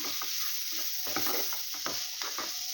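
Beetroot fry being stirred into a masala in a pan for beetroot paratha, with steady sizzling and repeated scraping strokes of a spoon, close and fairly quiet, no talking.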